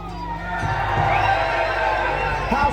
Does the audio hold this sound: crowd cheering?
yes